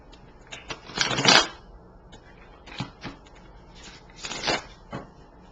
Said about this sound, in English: Just shuffling them to clear any energy from the other readings that I've been doing.